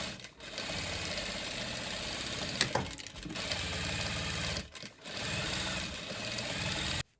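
Sewing machine quilting fabric for box pouches, running in steady continuous bursts with a rapid mechanical chatter, close and fairly loud, pausing briefly twice before stopping abruptly.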